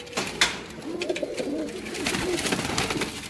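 Racing pigeons coo in low, rolling murmurs close by, a steady layered cooing running through the short stretch with a brief sharper sound near the start.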